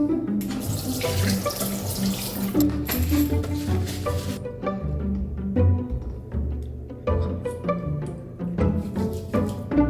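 Tap water runs steadily into a sink during handwashing with soap in a fancy washroom, with splashes, a few clinks and shifting flow over ten seconds.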